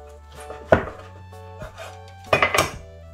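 A knife chops a piece of meat into small pieces on a board for an Imlek dish such as khau bak, giving a few sharp, close knocks separated by pauses, with a quick cluster of cuts near the end.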